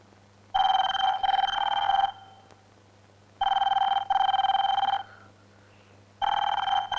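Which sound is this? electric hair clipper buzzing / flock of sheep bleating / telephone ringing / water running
telephone ringing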